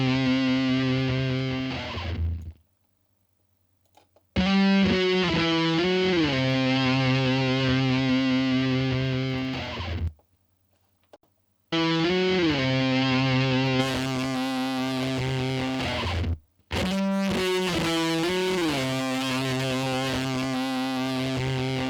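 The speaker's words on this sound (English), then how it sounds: "I want to make it more gritty by trying to use some of that channel strip distortion on it" An electric guitar runs through a Waves NLS channel strip distortion blended in parallel, playing gritty, sustained chordal phrases in looped sections separated by short silent gaps, loud and alone.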